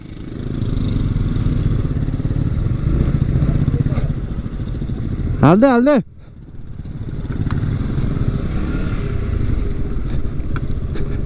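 A motorcycle engine runs with a steady rumble while the bike is being parked, then gives a brief rising rev whine before the note drops lower. Voices talk over it.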